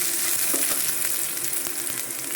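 Halved onion frying on a low flame for Mangalore village-style prawn curry, a soft, even sizzle with faint stirring, close by and without speech.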